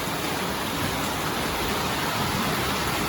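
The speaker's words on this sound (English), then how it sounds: "I know it's raining right now" Steady outdoor rain falls as a dense, even broadband hiss, continuous and unbroken throughout with no voices.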